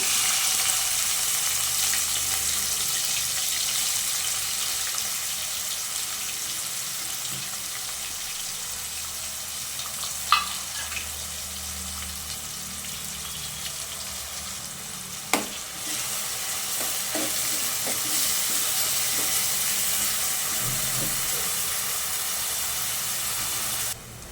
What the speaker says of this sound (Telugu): తర్వాత కోసి పెట్టుకున్న ఉల్లిగడ్డలు వేసుకోవాలా